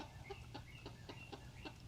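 A rooster gives a string of soft, repeated clucks at a steady pace, fairly close, with some low background hum underneath.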